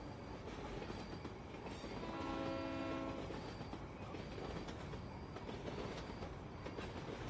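A passing train rumbles and clatters steadily and close by, with a sustained horn blast sounding for about a second midway through. No one speaks.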